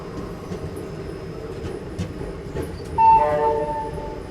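A train pulls in at a platform of Khandwa Junction railway station in Madhya Pradesh, India, on the Jhansi–Pune special service: a steady low rumble of rolling wagons, with a brief tonal horn-like blast near the end.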